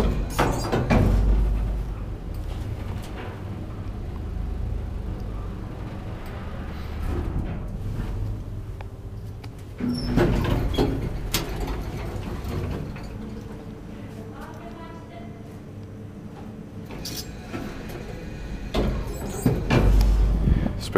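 An old Kone traction elevator in a health care center in Kouvola runs with a continuous low rumble and hum, broken by door thuds and clanks at the starts and stops. A voice talks intermittently.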